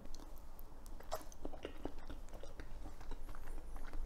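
Chewing of a tea egg, a boiled egg steeped in tea broth, bought at a FamilyMart convenience store in Shanghai, China. Soft, close, moist mouth sounds repeat in an irregular rhythm against a quiet background.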